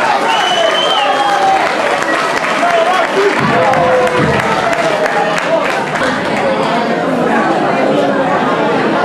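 A live concert audience in an oratory applauds and cheers in a dense, continuous wash of clapping and crowd chatter, while someone speaks over it throughout.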